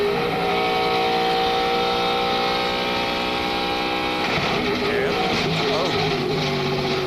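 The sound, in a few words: Michael Waltrip's NASCAR race car, onboard camera audio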